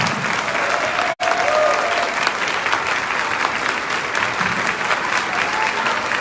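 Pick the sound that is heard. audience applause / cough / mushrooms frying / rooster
audience applause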